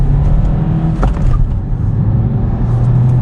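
A Renault Clio 1.5 dCi diesel accelerating hard in a sprint, heard from inside as a loud, steady engine drone that climbs through the revs with a quick shift partway through.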